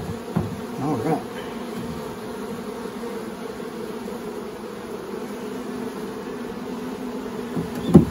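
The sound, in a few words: honey bees buzzing during a nuc install into a hive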